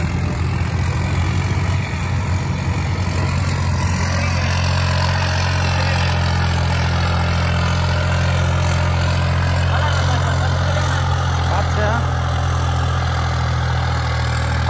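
A steady, low tractor engine idles throughout, a New Holland 3600-2 with a turbo modification, a constant rumbling drone with a faint mechanical rattle on top and no talking.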